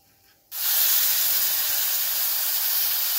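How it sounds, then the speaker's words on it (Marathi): Hot milk poured into roasted semolina for rava kheer, a sudden loud sizzling hiss that bursts in after a quiet moment and keeps steaming steadily and close. "आता आपण त्यात गरम दूध ओतणार आहोत"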